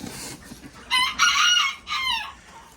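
Show chickens crow loudly and cluck nearby in a quail-keeping area: two strong crowing bursts in quick succession, then a third call, over quiet background.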